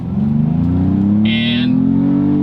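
A Ford Bronco engine pulls at full throttle, a loud close drone rising steadily in pitch over a couple of seconds with a brief higher whine partway through.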